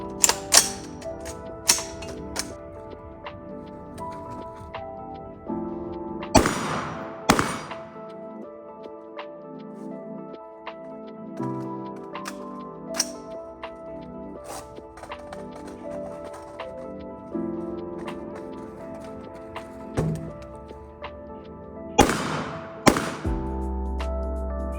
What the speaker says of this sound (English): I'm gonna fire 2 shots and then go into cover, reload with a mag retention, and engage again with 2 shots.